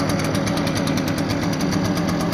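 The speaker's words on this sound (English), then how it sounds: "Oh yeah, a lot of power on this blower" An Echo leaf blower runs at full throttle, a loud, close, steady buzzing engine roar with a rapid pulsing texture and no pauses.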